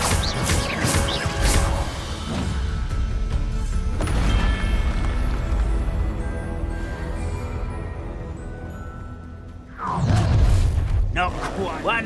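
A Confringo spell blast in Hogwarts Legacy combat: a long, loud rumbling boom with crashing debris, fading slowly, then another burst of impacts, with voices shouting through the fight.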